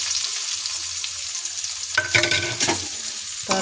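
Onions sizzle steadily in a pan while a spoon stirs them, with sharper scraping bursts near the end; close and alone, with no talk.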